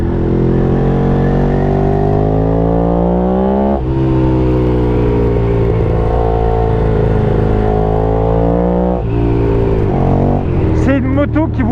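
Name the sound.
Ducati Streetfighter 1098 S motorcycle engine accelerating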